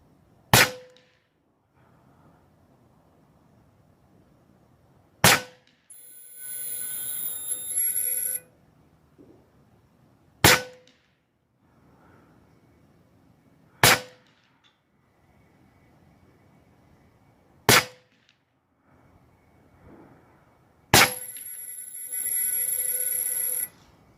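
Huben K1 air rifle fired outdoors on a windy day, six sharp, loud cracks spaced several seconds apart, with faint quiet stretches and brief buzzy noise between some shots.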